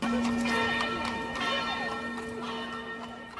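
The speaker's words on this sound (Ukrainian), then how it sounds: "Це дзвони церкви святого Петра, побудована церква в 1733 році в стилі бароко." Church bells of St. Peter's Church, a Baroque church in Vienna, ring out with sustained, overlapping tolls in a busy street amid crowd noise and voices.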